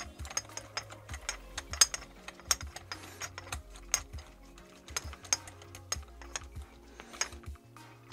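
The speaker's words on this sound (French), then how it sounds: "Ça se visse, je le sens." An extension being screwed onto an ARES airsoft HPA engine V2 gives off a steady run of small mechanical ratcheting clicks and ticks, close and fairly quiet, with short irregular bursts.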